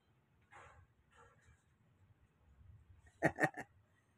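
A dog lets out a quick cluster of three sharp barks close by near the end, after a few seconds of quiet background.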